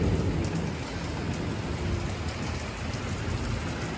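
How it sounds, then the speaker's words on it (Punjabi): Steady heavy rain hissing across the whole stretch, loud and unbroken, with no voices over it. "ਮੀਂਹ ਵੀ ਪੈ ਗਿਆ ਬਹੁਤ ਦਿਨਾਂ ਬਾਅਦ"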